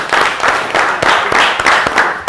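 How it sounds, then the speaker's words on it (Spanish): Students in a classroom give a short round of clapping, steady and close, with a few louder claps and no voices on top. "un aplauso para ustedes mismos por la participación"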